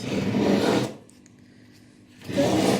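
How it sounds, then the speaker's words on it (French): Harsh scraping and rubbing of dough being pressed into a glass dish, loud and continuous, pausing briefly before starting again. "Je suis désolée pour le bruit désagréable, mais c'est un plat en verre,"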